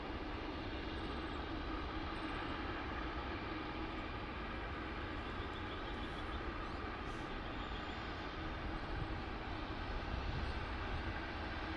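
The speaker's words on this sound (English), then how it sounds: "here comes the loudest plane on the runway" A loud, continuous jet roar of an airplane on the runway at Sydney Airport fills the whole stretch, broad and unbroken, with no talking.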